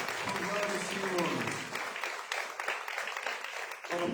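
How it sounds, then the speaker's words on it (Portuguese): A church congregation applauds during worship, with dense, steady clapping that holds at a fairly even level throughout, mixed with voices and some singing or talk in the first half. "Aplauda o Senhor"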